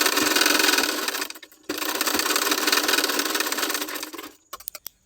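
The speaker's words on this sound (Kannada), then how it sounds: "ಅದನ್ನು ಇದರ ಮೇಲೆ ಇಟ್ಟು ಸ್ಟಿಚ್ ಮಾಡ್ತಾ ಇದ್ದೀನಿ." A sewing machine stitches sleeve fabric in a close, loud, continuous whir. It stops briefly, runs again, then ends in a few short bursts.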